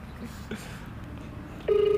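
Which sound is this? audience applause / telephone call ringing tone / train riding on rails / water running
telephone call ringing tone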